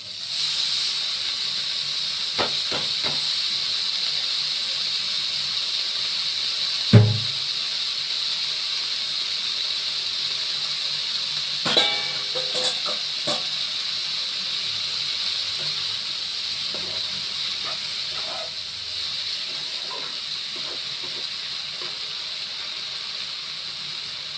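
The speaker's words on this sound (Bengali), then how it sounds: "এবার আমি শাকটা ঢেলে দিচ্ছি।" Greens tipped into a hot pan give a steady, close sizzle and hiss that holds for the whole stretch, broken by a few sharp clatters of utensils. No one talks.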